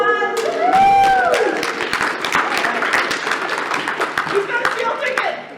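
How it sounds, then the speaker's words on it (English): Audience applause and clapping at a furry convention panel, loud and sustained for several seconds with scattered chuckles, crowd noise and voices mixed in. "Round of applause."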